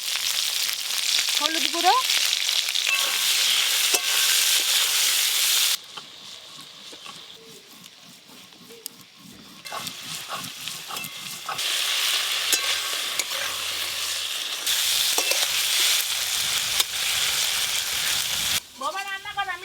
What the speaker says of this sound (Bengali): ওই একই তেলে চিংড়ি মাছগুলো ভালো করে ভেজে নেব